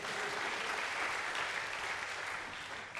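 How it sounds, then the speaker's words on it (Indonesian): A church congregation claps during a worship service, a full, continuous burst of many hands sustained throughout and easing off a little near the end. "Tepuk tangan dulu buat Tuhan."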